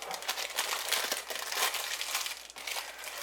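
Close, continuous crinkling and rustling of a thin plastic sandwich bag being opened, folded over and handled, soft and steady with no voices.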